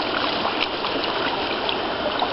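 Muddy water pours out of a gold pan at a river, a steady close splashing trickle with no pauses.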